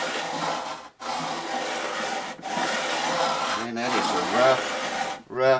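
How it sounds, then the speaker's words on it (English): Rough sandpaper rubbed back and forth over the frets of a StewMac D-28 acoustic guitar kit, a loud continuous scratchy rasp in long strokes with brief pauses between them. "rough sandpaper."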